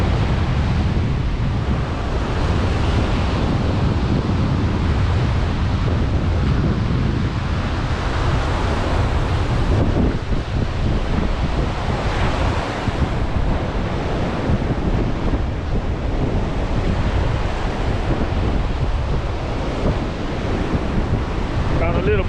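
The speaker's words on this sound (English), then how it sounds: "This is the Atlantic Ocean." Atlantic Ocean surf on a beach in Ghana makes a steady, loud roar of breaking and washing waves. Heavy wind buffets the microphone throughout, with no clear talking.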